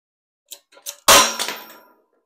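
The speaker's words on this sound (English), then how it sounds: "So we'll just press this old bearing out." Old bearing pressed out with a socket on a chain drive spool for a crosskart, mini buggy or go kart: a few small metallic taps, then one sharp loud clang that rings briefly and fades, no talking.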